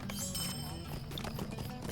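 Hooves of a horse during swift travel in the video game The Lord of the Rings Online, a steady, fast clip-clop rhythm running throughout, close and clear against a dense game sound bed.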